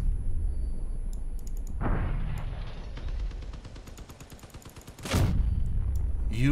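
Cannon and gun fire in the Crossout tank-combat game: a heavy boom opens into a rapid rattling burst of shots, then another loud blast near the end, with sharp interface clicks above.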